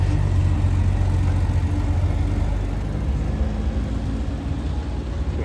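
A VW Beetle-powered Brubaker Box minivan rolls by at a small car show doing parade laps, its air-cooled engine giving a steady, fairly close droning hum that fades slightly toward the end.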